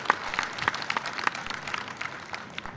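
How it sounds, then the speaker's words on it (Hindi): An audience claps to welcome the Chief Minister at a community conference in Madhya Pradesh, a moderately loud, uneven patter of many hands with a few sharper nearby claps standing out. "उनका एक बार जोरदार ताली बजाकर मुख्यमंत्री जी का स्वागत करें"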